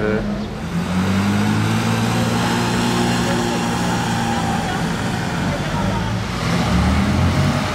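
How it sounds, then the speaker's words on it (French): A Porsche 911 R sports car arrives with a loud, sustained engine drone that climbs in pitch and swells toward the end, close by with other traffic in the background and someone talking over it. "Tiens d'ailleurs il y a une 911R qui arrive"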